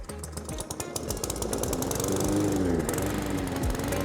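A Cobra M46SPCVX petrol lawnmower engine is pull-started and then runs, loud and close, beginning with a quick sputtering catch and settling into a steady buzzing idle.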